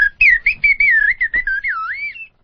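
A slide whistle imitating R2-D2, with quick, warbling, sliding chirps that rise and fall in a burst of short bleeps, close and clear against silence.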